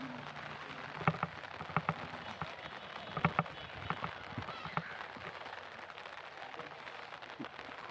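Rain falls steadily in a Kodaikanal park, a soft constant hiss broken by scattered louder drips and taps landing on nearby surfaces.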